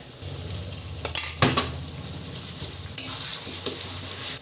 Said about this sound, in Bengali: এর মধ্যে আমি মশলাগুলোকে দিয়ে আরও কিছুক্ষণ কষিয়ে নেব।